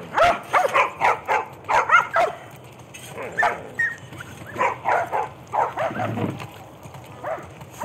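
Dogs in the video game The Last of Us Part 1, a close run of sharp barks, yips and whimpers in uneven bursts over a faint background.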